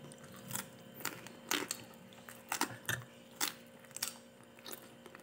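Crispy fried chicken thigh skin crunches close to the microphone in a string of sharp, irregular bites and chews, with quiet pauses between them and no talking.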